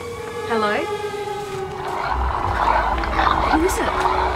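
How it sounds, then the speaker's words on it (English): A cracked mobile phone rings in an empty street with electronic tones that rise and slide in pitch over a dull background hum. "this is Grayson's phone"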